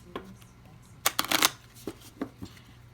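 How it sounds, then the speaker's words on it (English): Tarot cards are shuffled by hand in a quiet room, a brief riffle of crisp flicking and soft taps, close and fairly faint. "feel free to fast forward as I shuffle here"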